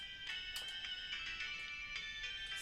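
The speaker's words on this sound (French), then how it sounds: "semblerait que quelqu'un nous appelle sur le téléphone" A phone rings in the video game Steins;Gate 0, a faint electronic ringtone trilling in short repeated pulses over a steady hum.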